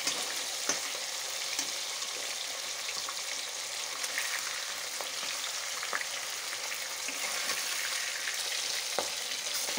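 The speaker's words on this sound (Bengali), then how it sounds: "আর এই যে এগুলো মাছগুলোকে সব ভেজে নিচ্ছি আমি।" Fish frying in a pan on a home stove gives a steady, even sizzle and crackle with faint scattered pops and small stirring clicks, close and alone with no voices.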